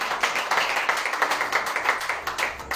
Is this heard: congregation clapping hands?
yes